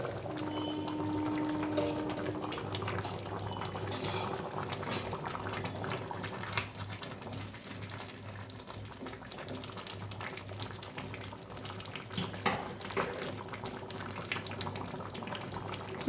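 Vegetable khichdi simmering in an uncovered pot, a steady low bubbling and watery burble that runs continuously at moderate level with a few brief clinks near the end; no talking.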